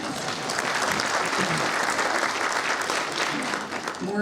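Crowd at a transportation progress event in Tysons breaks into sustained applause, a thick steady clapping with scattered voices and a slight fade at the end.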